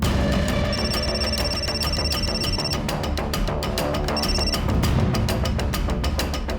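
A telephone bell rings during a call, a rapid metallic trill repeating steadily and loudly in close bursts with a brief break between rings, with no talking.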